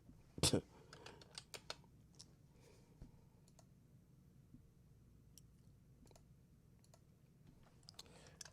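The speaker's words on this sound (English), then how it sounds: "I'm typing it" Quiet, scattered key clicks of someone typing, irregular taps with pauses, soft and close in a hushed room.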